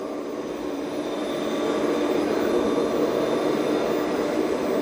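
An Ecovacs Deebot T20 Omni robot vacuum runs at a steady, fairly loud whine with a broad airy hiss, holding constant close by without any talk.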